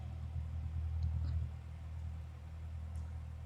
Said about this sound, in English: the engine still do sound pretty loud, don't it?